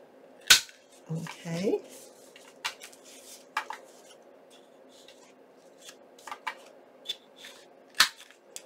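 A handheld corner rounder punching the corners of a stack of index cards, a few sharp distinct clacks spaced irregularly with quieter paper handling between, and a short spoken word.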